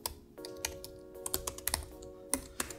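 Quick, close keystrokes on a computer keyboard as a search query is entered, an irregular run of light clicks over a low steady hum, with no one speaking.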